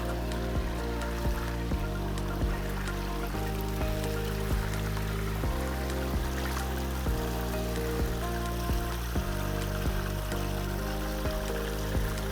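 Water flows steadily through a creek at its deepest spot, a continuous close wash and trickle that runs unbroken and fairly loud, with strong low hum and some music-like tonal bands underneath throughout.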